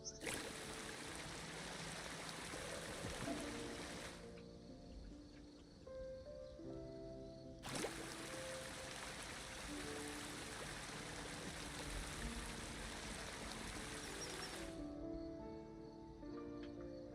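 River water runs in a steady, soft rushing stream in the park-building video game Prehistoric Kingdom, a quiet continuous flow with faint interface tones over it, no talking.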